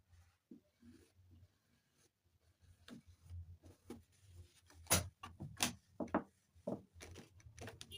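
Chalk or pencil marking a line on fabric while drafting a side-elastic pencil skirt pattern: scattered scratchy strokes and soft rubbing, faint at first and growing busier and louder toward the end, with no talk.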